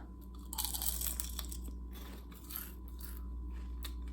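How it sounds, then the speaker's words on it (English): Close, crisp crunching as baked kale chips are bitten and chewed, a few crackly bites in a quiet space. "crunchy, just like the kale chips"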